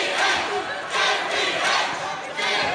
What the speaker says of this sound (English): JPH, they chant here in Sydney.